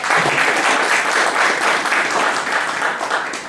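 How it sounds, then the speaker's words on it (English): Applause at an awards ceremony greets a Bullseye Award winner in the gold category, a dense, steady round of clapping from a gathered audience that holds at full strength throughout. "So give a big round of applause"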